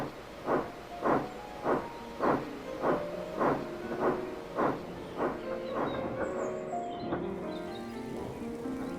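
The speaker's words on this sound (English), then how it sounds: "Every day, Henry's goods train runs through the junction where the main line meets Thomas's branch line." A steam goods train running along a main line past a branch-line junction, its exhaust chuffs beating in a steady rhythm that gradually blurs into a continuous rumble and hiss, moderately close, with no talk.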